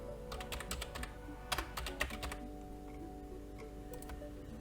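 Someone types on a computer keyboard: a quick run of close, crisp keystroke clicks over the first couple of seconds, then a few sparse, quieter taps over a low room hum.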